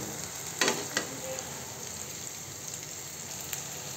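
Onions frying in a pan make a steady, fairly quiet broadband sizzle, with a couple of brief utensil scrapes early on and no talking.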